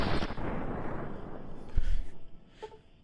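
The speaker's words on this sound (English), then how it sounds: "Why are you shooting him right there?" Gunfire in the video game Fallout New Vegas, with a few sharp shots and booming bursts that fade out, alongside fainter later pops.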